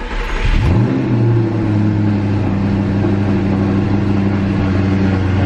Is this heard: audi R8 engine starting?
yes